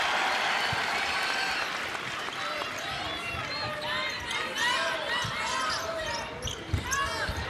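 Crowd noise at an Iowa vs Drake women's college basketball game, a loud arena roar with cheering under a commentator's voice, plus squeaking sneakers and bouncing balls on the court.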